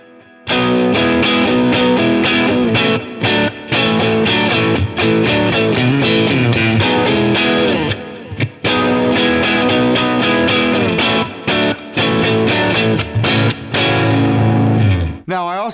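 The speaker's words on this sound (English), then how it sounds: "So here's without the EQ. And here's with the EQ." An electric guitar played through a Quad Cortex preset gives a distorted, driven tone, strummed in dense chords and riffs with brief gaps. The same passage is played twice to compare the sound without and with an EQ boost.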